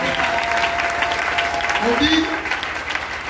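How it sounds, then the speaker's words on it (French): A church congregation claps and cheers at a service, a steady wash of applause sustained throughout at close range, with a voice speaking briefly over it. "Est-ce que tu peux acclamer d'abord pour lui?"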